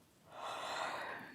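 A single drawn-out yawn with a rising then fading breathy exhalation, close and fairly quiet, lasting just over a second with no talk.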